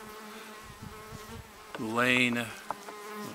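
Honeybees hum steadily during an August apiary hive inspection, with a loud close buzz swelling as a bee passes near, while someone speaks over it.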